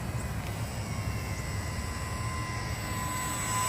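An E-flite UMX Timber STOL, a small electric RC plane, flies at a distance with a faint, steady motor whine and thin tonal lines over quiet outdoor background.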